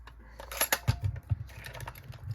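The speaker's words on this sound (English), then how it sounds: "I'm going to sharpen my blender pencil" Quiet scratchy, clicking grinding of a colorless blender colored pencil being sharpened, a few irregular bursts over a couple of seconds with no talking.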